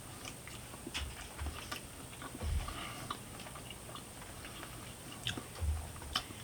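Soft, close chewing of honey smoked Cajun turkey breast during an outdoor taste test, with faint irregular mouth clicks and crunches over a low background hiss.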